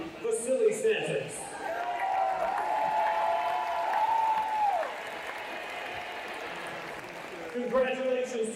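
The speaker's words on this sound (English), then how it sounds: "Let's give them another big round of applause." A school gym crowd applauds senior winter sports athletes, steady clapping throughout. A sustained tone and an announcer's voice carry over it in the middle, and the clapping grows more distinct at the start and the end.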